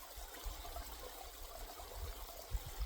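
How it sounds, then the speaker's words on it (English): A forest creek flows in a steady, quiet babble and trickle, with soft low rumbles from the current running underneath throughout. "enjoy the creek for a minute"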